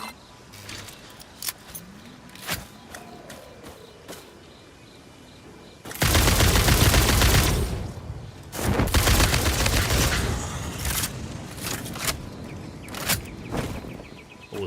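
Gunfire in the factory-building game Satisfactory: scattered single shots, then dense sustained bursts of automatic fire, loud and close, with short pauses between volleys and no talk.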